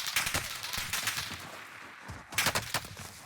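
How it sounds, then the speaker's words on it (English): Rapid bursts of automatic gunfire crackle in a Call of Duty Warzone match, coming in two dense volleys split by a short lull, loud and close. "The guy shooting at us now was shooting at the guy in the blue house"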